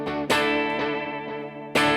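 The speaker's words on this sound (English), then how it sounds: "where the delay is going into the reverb, each one of the reflections of the delay is now going through the reverb as well" An electric guitar runs through a NUX Trident pedal with delay feeding into reverb. Two loud strummed chords bloom into washy, repeating echoes that smear into a long shimmering tail, with no voices.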